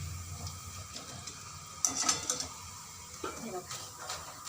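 Coriander fritters fry in oil over a medium flame, a faint steady sizzle with occasional clinks of a utensil against the pan.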